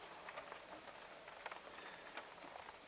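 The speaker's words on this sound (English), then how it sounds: "It's raining outside" Rain falling outside at a truck camper rally in Quartzsite, Arizona, a soft steady patter with scattered louder drops, fairly faint and continuous.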